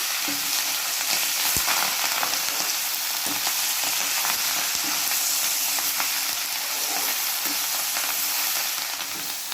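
Manathakkali spinach leaves sauté in a hot pan for a keerai thuvaiyal, giving a steady, close sizzle and frying hiss with occasional soft stirring knocks throughout, no voices.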